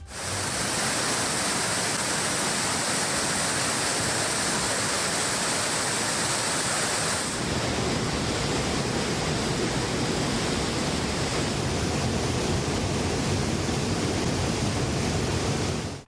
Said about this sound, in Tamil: சின்ன சுருளி அருவியில் திடீரென வெள்ளப்பெருக்கு ஏற்பட்டது